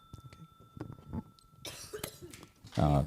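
A burst of coughing near the end, loud and close, after a stretch of quiet background murmur.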